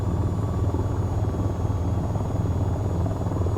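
AH-94 attack helicopter in the VTOL VR game settling into a slow hover, its rotor and engine giving a steady, dense, close throbbing drone that runs without a break and with no talk over it.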